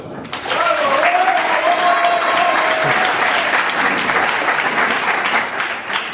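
An audience at a hypnosis show applauds, a dense and steady wash of many hands lasting around six seconds, with a voice briefly over the start.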